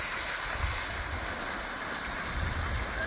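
A borewell motor pumps out water that gushes about 15 feet high, making a steady, loud rushing roar with low rumbling throughout and no speech over it.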